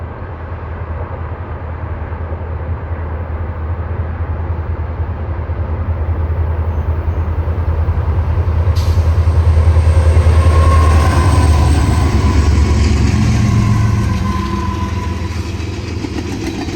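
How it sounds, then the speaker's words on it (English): A Union Pacific freight train on the Portland subdivision in the Columbia River Gorge rumbles past, a steady heavy roar and clatter that builds to a peak and slowly fades. "trains of the Union Pacific Portland sub keep the rails humming"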